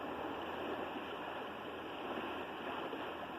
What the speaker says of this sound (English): Listening to the calm water.